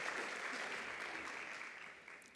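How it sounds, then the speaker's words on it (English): A round of applause at a senior class banquet, steady clapping from the gathered guests that holds evenly and then slowly eases off. "Let's give them all one more round of applause"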